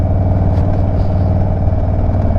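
A 2022 Indian Chief motorcycle runs loudly through an un-jetted exhaust, giving a steady, throbbing low rumble with a fast, even pulse that holds close and constant throughout.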